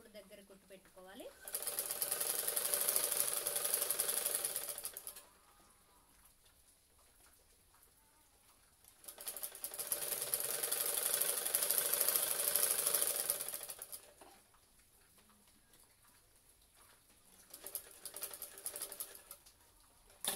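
A sewing machine stitches a size 30 cross-cut blouse in three long, steady whirring runs separated by pauses, close and fairly loud, with a voice talking faintly in the gaps.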